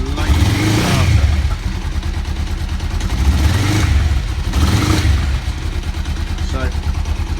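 A Kawasaki GPZ500S motorcycle engine runs close by, idling with a pulsing rhythm and a few brief rises in revs, with some talk over it.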